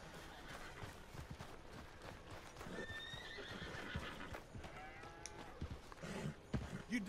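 Horse hooves clip-clopping and a horse whinnying in Red Dead Redemption 2, a soft rhythmic hoof clatter with rising neighs near the middle and end, all faint and at low level.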